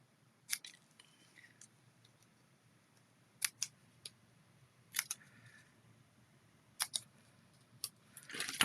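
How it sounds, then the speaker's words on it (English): Scissors trimming a card in a card-making session, a series of crisp sharp snips at irregular intervals, close and fairly quiet against a near-silent background. "Scissors."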